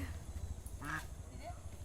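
Ducks outdoors after rain give a few faint, short quacks against a low background hum, distant and quiet.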